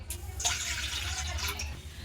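Three cups of water pour into a pot in one continuous rushing stream, fairly close and steady for about two seconds.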